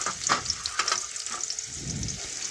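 Finely sliced onions fry in oil with cumin and bay leaf, making a dense, continuous sizzle close by, with soft scraping as they are stirred. No voices.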